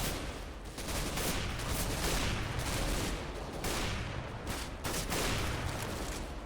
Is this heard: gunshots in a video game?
yes